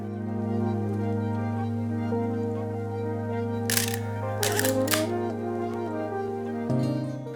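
Nikon F2 film camera loaded with Portra 160 and fitted with a 35mm f2.8 AIS lens, used along Highway 2 in the Cascades: a few crisp mechanical clicks and snaps cluster near the middle, over a steady tonal music bed.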